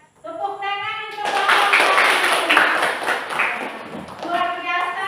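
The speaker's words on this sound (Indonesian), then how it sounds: "Tepuk tangan untuk" Classroom applause for a student group comes as a lively burst of many hands clapping. Voices are heard just before and after.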